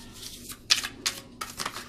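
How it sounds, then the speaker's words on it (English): A new deck of Soul Trees oracle cards being shuffled: a few quick papery riffles and flutters in short bursts over a faint background hum. "I love the way it shuffles."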